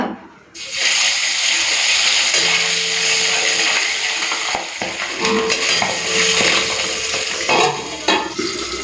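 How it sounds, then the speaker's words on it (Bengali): Pabda fish frying in hot oil in a home kitchen pan, a loud continuous hiss and sizzle with occasional crackles and spatters throughout. "এই যে প্রথমে পাবদা মাছটাই ভাজছি"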